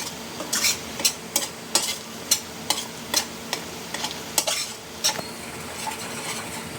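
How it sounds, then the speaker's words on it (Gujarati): Onions are sautéed in a pan for kaju gathiya, a low sizzle under a regular series of sharp spatula scrapes and clinks against the metal, steady and fairly close, with no talking. "સામાન્ય ગુલાબી રંગની થાય ત્યાં સુધી ડુંગળીને સાતળવાની રહેશે."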